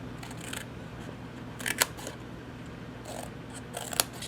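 Scissors snip through the tab of a small stamped paper box, several short crisp cuts in a slow, careful rhythm, close and clear over quiet room tone with no talking.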